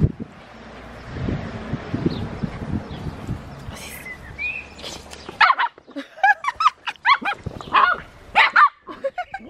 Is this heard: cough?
no